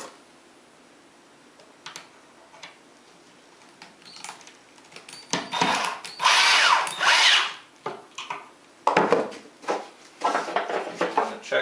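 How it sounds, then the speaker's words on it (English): A power drill drives a pocket hole screw into a wooden TV stand frame, a few quiet handling knocks first, then rising whirring bursts as the screw bites in, close and loud, with no voices. "I'm going to use the square just as a little bit of a brace while I get the first pocket hole screw"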